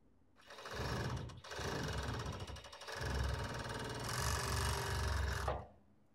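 A sewing machine stitches the shoulder seam of a long-sleeved robe in several rapid whirring bursts separated by short pauses, close and fairly loud, with no talking.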